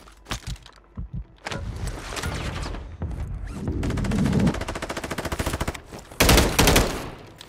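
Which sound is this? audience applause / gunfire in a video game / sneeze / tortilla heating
gunfire in a video game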